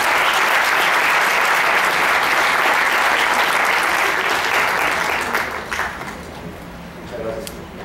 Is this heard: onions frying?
no